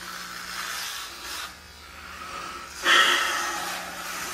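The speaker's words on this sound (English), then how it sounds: "She wants me to shave." An electric razor shaving off a beard and head hair, a steady close buzz that shifts in tone as it moves through the hair, with no talking.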